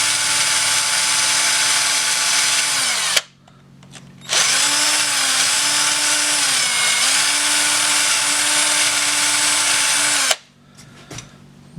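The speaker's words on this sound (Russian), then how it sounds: "Текстолит сверлится достаточно легко." A power drill bores into textolite for a Yakut knife, giving a loud, close, steady whine whose pitch dips and rises as the bit bites. It stops briefly partway through, resumes, then cuts off near the end.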